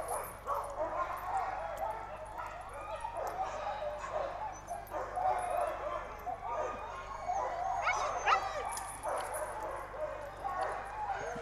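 Huskies out on summer sled dog training bark, yip and whimper in scattered bursts, moderately close, with people talking intermittently among the dogs.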